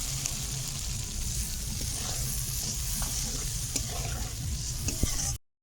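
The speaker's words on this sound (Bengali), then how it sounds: "নারকেল দুধটা আমি দিয়ে দেবো মশলা কষানো হয়ে গেছে দিয়ে দিচ্ছি" Coconut milk poured over fried spices in a pan for Bengali eggplant malai curry, with continuous sizzling and the scrape of stirring close by, stopping abruptly at the end.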